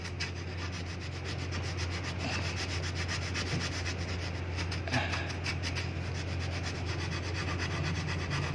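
Steady abrasive hand sanding with sandpaper on a Yamaha R15 V3 motorcycle part, a continuous dry scratchy texture with a low constant hum underneath, close and moderately loud throughout.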